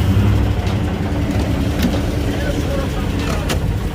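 A stock Chevy 305 V8 truck engine idles steadily at close range, a low rumbling drone with faint ticking from a slight lifter tap, while voices talk over it.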